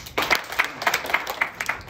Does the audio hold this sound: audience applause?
yes